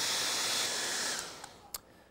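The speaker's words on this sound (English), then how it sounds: "I want to put the hair dryer on this" A hair dryer drying a clay sculpture blows with a steady, loud airy roar that tapers slightly, with a couple of faint clicks near the end.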